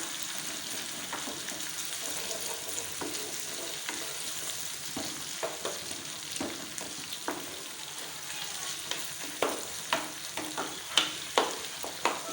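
Cooked tomatoes for dal are stirred into a paste in a sizzling pan, with steady frying hiss and a run of scraping spoon strokes that grow louder and more frequent toward the end.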